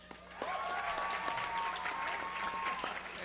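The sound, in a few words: audience applause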